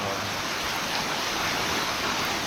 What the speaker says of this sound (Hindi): और तेज हो गई बारिश।